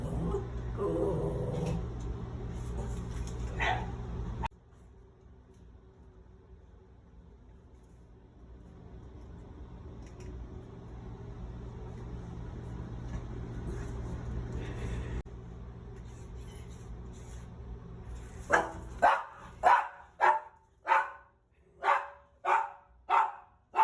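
A dog barks at a small robot dog toy, first with muffled background noise, then a run of sharp, evenly spaced barks close by toward the end.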